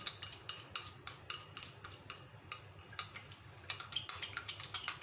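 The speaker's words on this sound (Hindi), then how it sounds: "खूब अच्छी तरह से इसको हम बीट करेंगे" Homemade summer cream is whisked briskly in a bowl with a spoon or whisk, about three sharp metallic clinks a second in a steady rhythm, close and clear with no voice over it.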